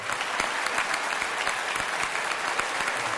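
Italian parliament members give Mattarella a long ovation, a thick, continuous roar of many hands clapping in a large chamber, loud and even throughout with no speech on top.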